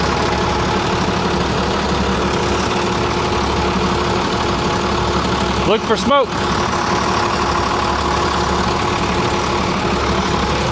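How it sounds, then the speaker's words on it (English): A steady diesel crane engine drones at idle under a person talking, with a brief clatter of bumps partway through before the even running resumes. "I don't know what kind of engine it is, but she's smooth."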